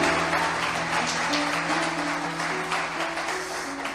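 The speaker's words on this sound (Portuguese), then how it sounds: "E só quem crê, dá um glória a Deus e aplauda o Senhor Jesus." A church congregation applauding during a worship service, a steady, moderately loud spread of clapping over a sustained low hum, with no clear talk.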